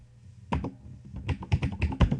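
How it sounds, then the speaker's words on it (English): Keys clatter on a computer keyboard in quick, uneven bursts of typing, close and crisp, with a short pause near the start before steady tapping. "I'm going to type in Mr. Xkill's Internet"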